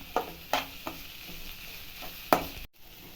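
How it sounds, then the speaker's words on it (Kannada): Grated fresh coconut fries with onions in a pan for lemon rice, giving a soft sizzle under several sharp scraping stirs of a spatula against the pan. "ಈಗ ಹಸಿ ತೆಂಗಿನಕಾಯಿ ತುರಿ ಇದೆ ಇದೊಂದು ಎರಡು ನಿಮಿಷ ಫ್ರೈ ಮಾಡಿ"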